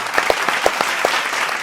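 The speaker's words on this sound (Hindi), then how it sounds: "जोरदार ताली स्वागत करते हैं" An audience at a Hindi kavi sammelan poetry gathering bursts into a short round of clapping to welcome a poet, with a dense patter of hands and a few sharper claps standing out.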